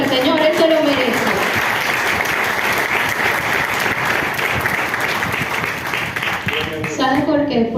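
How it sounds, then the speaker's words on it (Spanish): Church congregation applauds loudly during a sermon, dense sustained clapping from a large crowd, with a voice heard at the start and again as the applause fades at the end. "Denle un aplauso al Señor, Él se lo merece."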